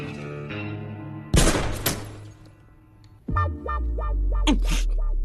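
A burst of gunfire in an action film scene, dense rapid shots amid music and effects, followed by a quieter stretch and then heavy booming impacts with swelling tones.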